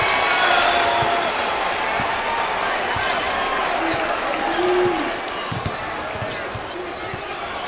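A basketball arena crowd at an NIT game between UL-Lafayette and LSU applauds and cheers after a defensive block, a broad roar with sneaker squeaks and bouncing ball noise beneath a commentator talking.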